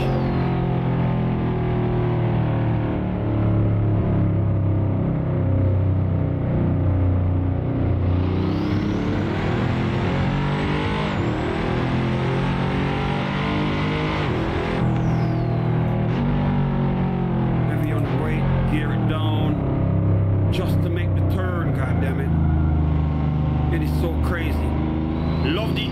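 A Pagani hypercar engine in Assetto Corsa revs loud and continuous, rising and falling in pitch through gear changes as it accelerates, with a voice talking over the steady engine drone throughout.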